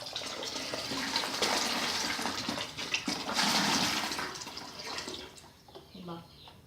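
Water pours and gushes out of a bottle in a continuous close splashing rush that fades near the end, with a voice faintly present.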